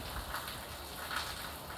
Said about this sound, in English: I don't want us to walk in the rain